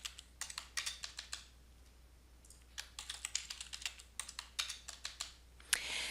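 Someone types a password on a computer keyboard in quick bursts of crisp, close key clicks, pauses for about a second, then resumes. The sound is quiet with no speech.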